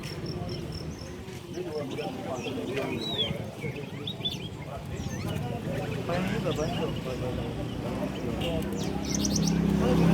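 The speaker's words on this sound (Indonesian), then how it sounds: "Ini bagian merpati." Pigeon section of a bird market in Sampang, with dense overlapping chirps and bird calls against constant background bustle and people talking nearby.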